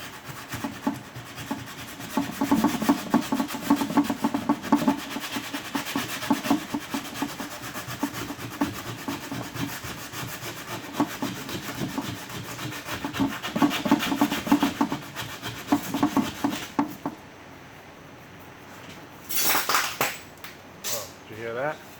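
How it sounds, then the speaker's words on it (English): Hand sanding of fairing filler on a boat's mast step, with steady rhythmic rasping strokes repeating close up for most of the stretch, then a pause and a few brief scrapes near the end. "I should do some hand sanding on this, and I'll block it out so it's level real quick."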